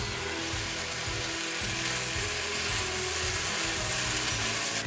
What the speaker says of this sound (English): Now I'm gonna add in our chopped tomatoes